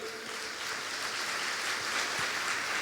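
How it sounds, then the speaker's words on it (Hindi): Applause from a congregation at a Hindi-language Christian worship service, a steady dense patter of clapping filling the whole stretch at moderate distance with no voices over it. "ताली बजाई।"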